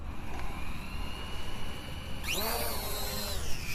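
A Holy Stone HS280 FPV drone takes off after a quiet, hissy lead-in. Its propellers spin up suddenly into a close, high buzzing whine that stays steady.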